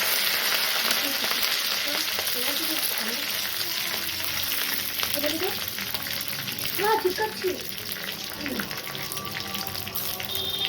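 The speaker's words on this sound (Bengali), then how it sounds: "এরপরে আমি এই লঙ্কা ফোড়ন দিলাম। এরপরে আমি কারি পাতাটা দিয়ে দিলাম।" Mustard seeds, dried chilies and curry leaves sizzle in hot oil with a continuous crackling hiss and scattered pops, a voice speaking faintly beneath throughout.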